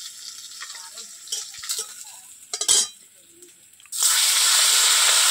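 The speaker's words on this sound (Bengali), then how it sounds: "বাকি মাছটাও ভেজে নেব" Fish frying in oil in a home kitchen: soft scrapes and a few clattering utensil knocks, then a sudden loud, sustained sizzle that surges up and holds to the end.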